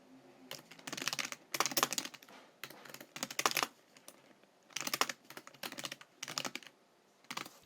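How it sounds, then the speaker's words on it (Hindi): Typing on a new computer keyboard, with rapid bursts of crisp key clicks separated by short pauses, close and clear with no talking. "ये जो मैंने कीबोर्ड लिया, ये नया कीबोर्ड लिया मैंने"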